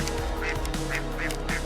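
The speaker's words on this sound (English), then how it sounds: "Here you go, fresh ducks." Ducks quack at a farm market, with four or five short, nasal honking calls in irregular succession, close and fairly loud against a steady background hum.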